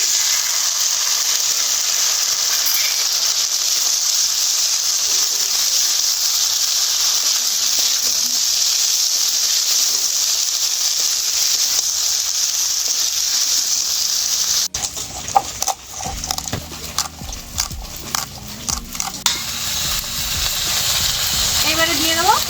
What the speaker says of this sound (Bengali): এবারে এই কর্নফ্লাওয়ার জলটা দিয়ে দেবো।